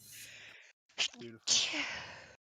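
A single sharp sneeze bursts out, followed by a brief spoken word and then a louder second sneeze-like burst, close and abrupt.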